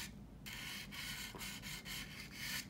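A part from a Trumpeter 1/32 F-105G plastic model kit wing being sanded smooth, several close, quiet back-and-forth rasping strokes in a steady rhythm with brief pauses between them.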